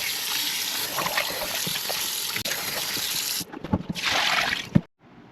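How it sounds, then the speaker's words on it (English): Cold tap water runs steadily over raw chicken being rinsed for Jamaican jerk, a close, continuous splashing that briefly breaks off near the end, surges again, then stops. "whenever you're rinsing the chicken, always remember to use cold water"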